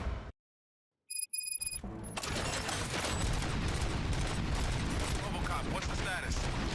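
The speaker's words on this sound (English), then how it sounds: "Gunshots? What's going on?" Dense, continuous bursts of gunfire and chaotic action noise fill the scene after a brief silence, loud and sustained, in the video game Robocop: Rogue City.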